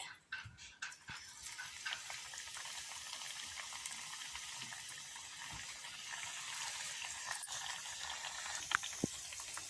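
Mung bean sprout fritters fry in hot oil with a soft, continuous crackling sizzle and occasional small pops throughout, fairly faint and close.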